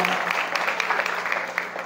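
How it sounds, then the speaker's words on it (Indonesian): Audience applause at a school motivational seminar for junior high students, a brief burst of dense clapping at close range. "Semuanya hari ini tepuk tangan untuk acara Mabit kalian"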